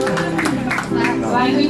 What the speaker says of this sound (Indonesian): Oke, tepuk tangan yang meriah.